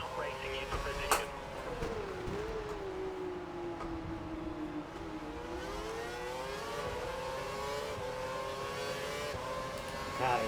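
An F1 car engine from F1 2012 whines steadily at Singapore, pitch dipping and rising as another car draws near and passes, close and loud, with some talk over it.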